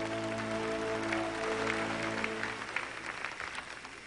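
Audience applause fills a pageant hall at the Miss Earth 2004 contest, a steady wash of clapping that tapers off, with a sustained musical tone underneath early on.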